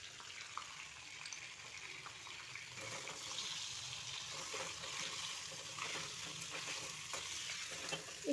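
Pointed gourd (potol) frying in oil gives off a soft, steady sizzle with light stirring scrapes, fairly quiet and close, with no talking.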